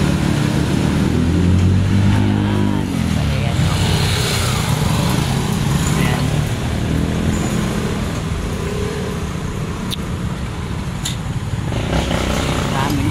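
A motorized tricycle passes on a busy road where a stalled vehicle is having its tire changed, its engine drone loud and steady throughout amid constant traffic rumble.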